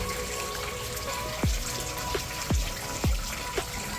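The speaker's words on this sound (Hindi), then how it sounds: "यहाँ मुझे एक ये फव्वारा दिखाई दिया" A water fountain splashes steadily beside a street in Seville, a constant near hiss of falling water with several sharp drips or splashes standing out above it.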